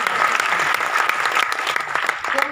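An audience in a Dadar theatre claps loudly and continuously, a thick patter of many hands with scattered sharper claps standing out, fading a little near the end.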